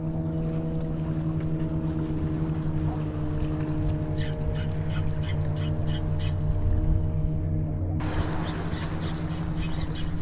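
A boat's engine drones steadily on the water off Kuala Nerus, Malaysia, a low hum that shifts in tone toward the end, with faint bird calls over it.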